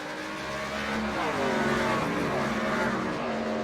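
Racing truck engines in the iRacing Truck Series game drone and rev continuously as trucks circle the track, a dense layered whine shifting in pitch as vehicles pass.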